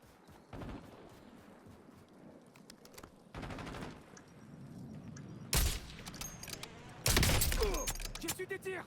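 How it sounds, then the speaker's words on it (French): Gunfire in Call of Duty Warzone, scattered bursts of shots cracking out at irregular intervals, with louder, denser volleys near the end over a low background rumble. "J'ai reçu des tirs."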